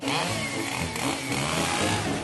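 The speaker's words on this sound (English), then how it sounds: "The chainsaw test states that if you cut a couch in half" A chainsaw runs continuously at close range, cutting through a couch in a loud, steady buzzing whine with slight fluctuations and no talk.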